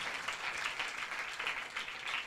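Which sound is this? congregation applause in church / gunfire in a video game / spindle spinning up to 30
congregation applause in church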